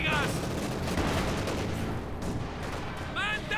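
A machine gun fires in the strategy game Company of Heroes 2. The bursts rattle densely and loudly, mixed with other gunfire and the clatter of battle for the whole moment.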